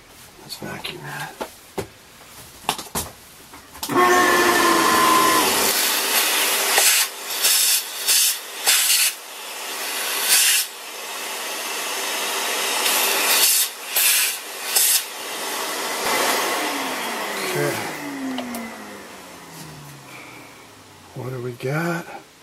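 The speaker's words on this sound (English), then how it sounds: "Let's vacuum that." A vacuum cleans up metal debris after material is ground off VW Type 4 engine pistons for balancing, roaring in a loud sustained hiss that starts and stops in several bursts, with people talking nearby.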